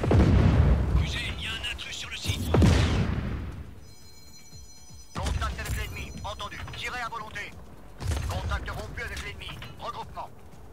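Gunfire and explosions from shooting enemies in the action game Just Cause 4, heavy booms and bursts arriving in loud clusters separated by short quieter stretches, with voices talking over the battle.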